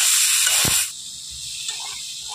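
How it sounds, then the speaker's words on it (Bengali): Mashed raw banana fries in hot oil with a loud, sharp sizzle that includes a quick crackling burst. The sizzle then drops to a soft, steady simmer with faint clinks. "কলাগুলোকে খুব ভালোভাবেই কিন্তু এইভাবে তেলের মধ্যে ভেজে নেব।"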